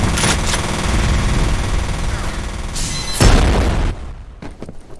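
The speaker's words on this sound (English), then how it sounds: "Grenade out." Loud close gunfire and a heavy grenade blast in the shooter game F.E.A.R., sustained rapid bursts giving way to a big boom around the middle, then a few isolated shots as the noise drops off.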